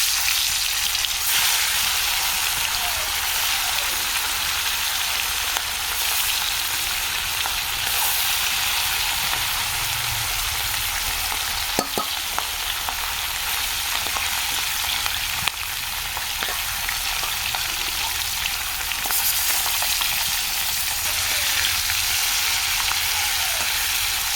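Fish frying in a pan: a steady, dense sizzle that holds close and even for the whole stretch, with occasional small pops and clinks and no voices.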